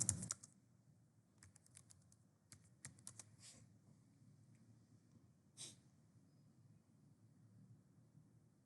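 A computer keyboard clicks quietly and close up as a short search is typed, with a few brief clusters of keystrokes and pauses between them, and a soft breath partway through.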